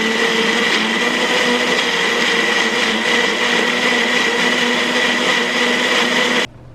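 A kitchen blender whirs at full speed through tomatoes, garlic and a toasted tortilla for mole sauce, a loud steady close whine that cuts off abruptly at the end, with no talking.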